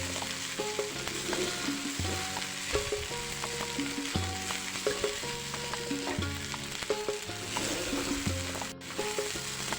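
Chinese fried rice sizzles in a hot pan with continual crackling and scraping stir strokes, close and steady, with no talk.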